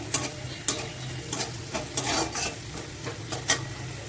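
Bitter gourd and potatoes frying in oil in a wok, with a soft continuous sizzle broken by repeated sharp scrapes and clinks of a spatula stirring against the pan.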